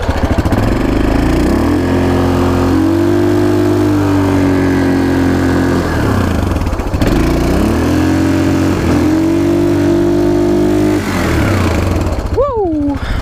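Close, loud engine of a camo Yamaha Kodiak 450 ATV revving and holding steady as it spins donuts on a concrete slab, the pitch rising and dipping as the throttle changes, with a person speaking in brief bursts over it.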